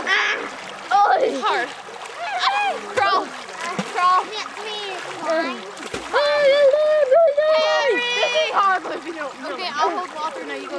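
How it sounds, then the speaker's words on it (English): Water splashes as Walter swims, with steady splatter under loud, excited voices of children and adults talking and shouting throughout. "Keep swimming, Walter."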